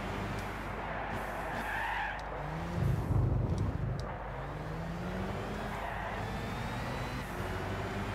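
A race car in Gran Turismo 6 drifts with tyres skidding and squealing over a steady engine drone, with a louder scrubbing burst midway through the slide.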